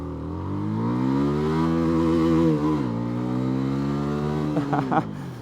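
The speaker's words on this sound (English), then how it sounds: "Let's try to accelerate a little bit, shall we?" CFMoto CLC 250 motorcycle engine revving up as it accelerates, a loud, close, steady rising drone that dips briefly midway as the gear shifts, then settles, with a few sharp bursts near the end.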